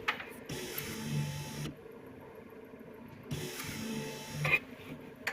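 A windscreen wiper motor and replacement linkage on a Fiat Doblo 223 run in two bursts of whirring and clicking mechanism noise, broken by a quiet gap between them.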